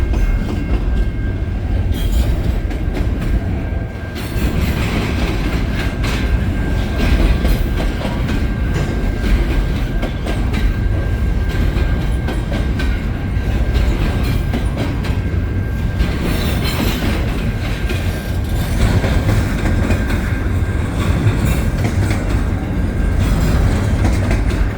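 A CN stack and mixed freight train rolls past in winter, a loud continuous rumble of wagons with faint clickety-clack and occasional wheel squeal, unbroken throughout.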